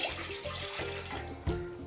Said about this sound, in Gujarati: તેની સામે આપણે 2 કપ જ પાણી એડ કરવાનું છે.